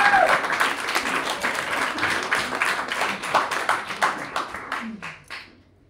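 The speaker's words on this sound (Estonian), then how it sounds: "Suurepärane aplaus, aitäh." Stand-up comedy audience applauding and clapping steadily at a close, fairly loud level for several seconds, then thinning out and fading near the end, with a few scattered claps trailing off.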